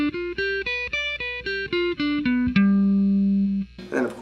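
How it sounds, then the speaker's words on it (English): Guitar picks a C-shape dominant 7th arpeggio one note at a time, rising then descending in even steps and ending on a held low note that rings out before a brief noise at the end. "This is a dominant 7th arpeggio."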